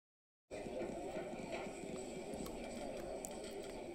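Horse hooves clip-clopping at a steady riding pace in the game Let's Ride: Silver Buckle Stables, a continuous rhythmic patter that begins abruptly over a constant ambient background.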